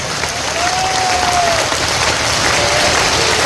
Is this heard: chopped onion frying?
no